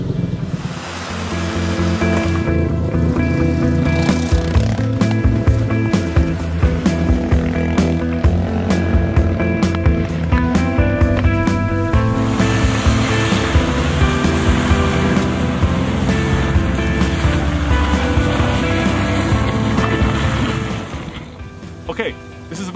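A crossover SUV in two-wheel drive grinds up a steep dirt hill trail, engine strain and tyre noise heavily buffeted by wind over the microphone, with someone talking throughout.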